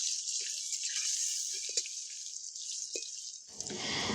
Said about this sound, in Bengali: দিয়ে এবার আমরা আলুগুলোকে ভালো করে ভেজে নেব।